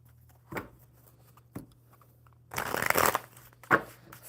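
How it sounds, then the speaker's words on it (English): A deck of playing cards shuffled during a live coffee-and-cards session: a couple of brief riffles early, then a longer dense flurry of card riffling and a final snap, fairly close over a low steady hum. "One more good shuffle."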